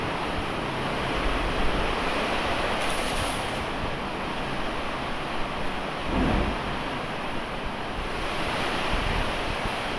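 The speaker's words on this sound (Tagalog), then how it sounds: "matindi yung ulan" Heavy rain storm pounding down at a garden villa building project with no canopy, water getting in; a loud, steady broadband wash of downpour with gusty wind, unbroken for the whole stretch and no talking.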